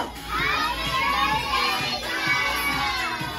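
A group of young children shouts together in a loud, continuous crowd chorus at a first birthday party, with their voices blending into a lively cheer that runs the whole length.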